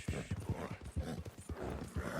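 Hooves of an Appaloosa horse clip-clop in the Red Dead video game, a quick uneven run of thudding steps, fairly close and quiet.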